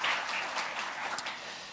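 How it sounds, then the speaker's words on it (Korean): A church congregation claps during a Sunday worship service, a soft, even patter that sounds distant and fairly quiet for a short stretch, with no voices over it. "다시 한번 박수로 한번 격려하겠습니다"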